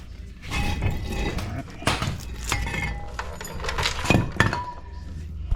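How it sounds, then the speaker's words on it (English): A brake caliper from a Nissan Armada (Infiniti QX56) drops during a pad and rotor job, giving a metallic clink among other clanks of metal parts in a garage, with talk around it. "Caliper just wanted to drop, not on my hand."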